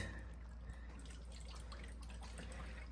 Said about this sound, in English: That's filling up with water.